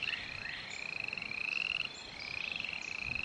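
An Italian tree frog croaks in a rapid rattling series of calls, repeating in quick bursts, close and clear over faint background noise.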